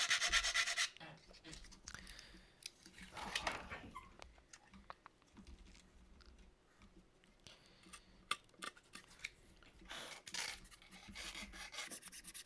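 Filler is worked into the cracks of a garage kit model, giving soft scraping and rubbing strokes at close range in irregular bursts with quiet pauses between them.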